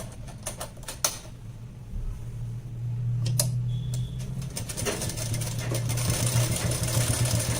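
A sewing machine stitches a blouse, running in a steady mechanical whir with short clicks and taps at first, then a longer continuous stretch of stitching that stays close and moderately loud.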